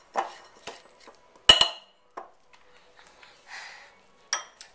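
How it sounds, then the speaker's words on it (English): A spatula scraping down the sides of a mixing bowl of tea cake batter, a series of short, separate scrapes and clinks against the bowl, close and fairly quiet, with silence between strokes. "I'm going to stop and scrape down the sides to make sure all the flour is incorporated."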